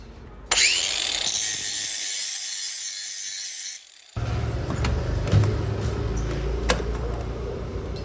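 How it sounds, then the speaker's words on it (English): Loud, steady grinding as an angle grinder takes back the edge of a panel on an MGB race car build, a continuous close whine with one brief drop in pitch partway through. "we'll grind the edge back"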